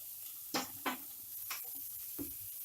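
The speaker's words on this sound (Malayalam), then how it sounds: "എല്ലാം ഒന്ന് നന്നായി സോട്ട് ചെയ്ത് എടുക്കാം." Carrot, onion and beans sauté in a pan for egg fried rice, a soft sizzle broken by a few sharp scrapes and stirs of a spatula, close and fairly quiet.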